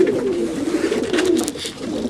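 Racing homer pigeons in a loft coo continuously in low throaty rolls, several birds overlapping near at hand, with faint higher rustles and chirps.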